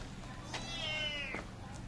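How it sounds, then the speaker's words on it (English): A single drawn-out kitten meow in Batam, Indonesia, rising and falling, moderately close, over a steady low background hum. "Little kitten."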